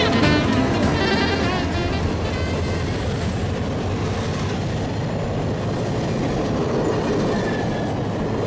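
Kansas City Southern Southern Belle passenger train, southbound to Shreveport, rolls past with a steady loud rumble and rhythmic clatter of wheels over rail joints, a horn sounding briefly early on.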